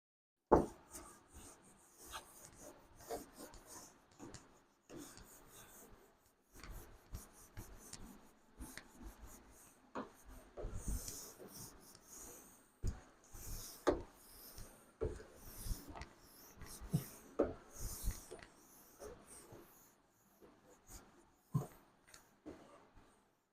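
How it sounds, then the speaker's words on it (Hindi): Writing is rubbed off a classroom board during a chemistry lesson. Quiet, irregular scrubbing and wiping strokes come in uneven bursts for over twenty seconds, with short pauses and no talk. "तो चलिए मैं रब कर रहा हूँ भाई साहब बच्चों इनको एक बार के लिए"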